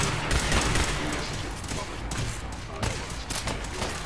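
Weapon fire in Fallout 4, using fusion shells, crackling in a dense, steady burst that runs the full length of the clip, loud and close, with speech faintly mixed in underneath.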